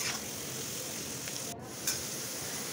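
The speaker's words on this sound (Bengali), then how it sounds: "আলুগুলো ভাজা হয়ে গেছে।" Potatoes frying in hot oil for a Bengali bhindi and potato dish, a constant close sizzle and hiss with a brief dip and a couple of sharper spits.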